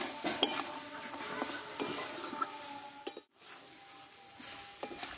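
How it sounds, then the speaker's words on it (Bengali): A spoon stirs fish-head and ash gourd curry in a pan after garam masala is sprinkled on, giving soft scraping strokes and light metallic clinks over a faint sizzle, close and quiet, with a brief gap near the end. "একটু নাড়াচাড়া করে নেব।"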